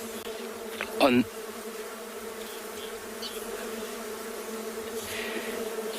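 Bees buzzing outdoors on an afternoon safari in South Africa, a steady droning hum throughout, with one nearer bee swelling briefly and loudly as it passes close before fading back into the background buzz.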